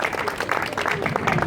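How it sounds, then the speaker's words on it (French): Applause for dance couples at a dance competition in a Marrakech hotel, a steady dense patter of clapping lasting the whole moment, fairly close, with voices mixed in. "on peut déjà tous vous applaudir"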